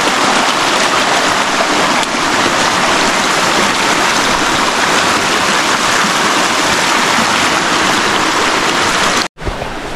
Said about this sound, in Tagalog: So ito guys, river crossing.